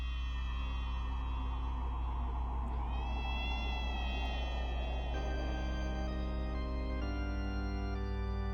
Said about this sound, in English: The adorable mutant kitten.